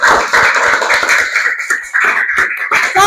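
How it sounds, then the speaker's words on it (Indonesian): A classroom of students clapping together during an Islamic studies lesson, a dense burst of hand claps that keeps going with small dips and sounds close and fairly loud. "Oke, tepuk tangan untuk kita semua."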